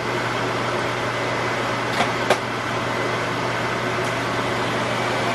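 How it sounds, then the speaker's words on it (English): An air fryer cooking fries runs with a steady, even hum and fan whir, with two brief faint clicks partway through and no talking over it. "So the air fryer it's on now. It's cooking the fries."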